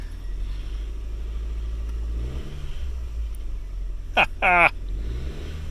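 A new starter cranks the engine of a blue 2007 Honda Fit with a manual transmission, and the engine catches and settles into a steady low idle rumble close by. A brief laugh and some talk come over it.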